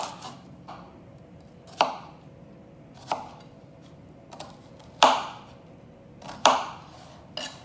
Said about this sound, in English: cut up one shallot.